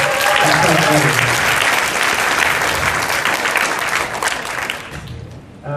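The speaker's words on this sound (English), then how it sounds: "give a round of applause for yourselves" A crowd at a business event gives a loud, sustained round of applause that gradually thins out toward the end, with a few voices mixed in.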